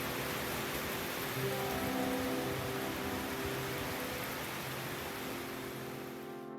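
Rain falls outside a window as a steady, soft wash of hiss with a faint low hum beneath, continuous and fairly quiet throughout.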